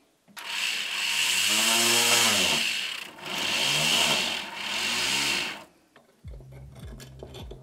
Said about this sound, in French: Pour ça j'utilise une petite fraise boule.